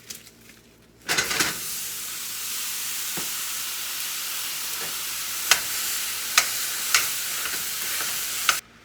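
Lean ground beef sizzles loudly in a hot pan with a little fat, bursting into a steady broadband hiss after a quiet second, with occasional sharp clicks and scrapes from stirring.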